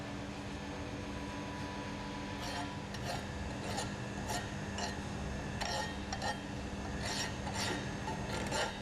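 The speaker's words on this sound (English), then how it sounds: "remove any remaining burrs on the rail with a hand file" Hand file rasping burrs off a steel rail during gas pressure welding, a steady scraping with repeated brighter strokes over a constant background hum.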